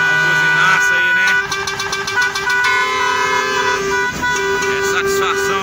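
A crowd of vehicles honks in celebration as a detour on highway BR-381 reopens. Loud, overlapping horn blasts sustain throughout, with repeated short toots layered over long tones, and a voice talks over them.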